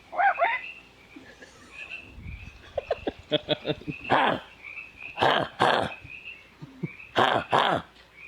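Frogs croaking in a forest at night, a series of loud close rhythmic croaks and chirping calls in uneven bursts over a faint background of insects.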